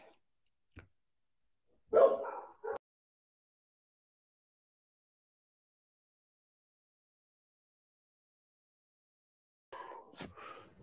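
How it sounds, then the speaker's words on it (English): Dogs give a few short barks at a middle distance in a quiet indoor room, with long silent gaps in between and a brief burst of barking again near the end. "I'll try to get my dogs in the line when we get off the air."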